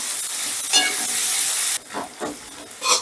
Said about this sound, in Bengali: এবারে গ্যাসের আঁচটা মিডিয়ামে রেখে পেঁয়াজটা আমি হালকা লাল লাল করে ভেজে নেব।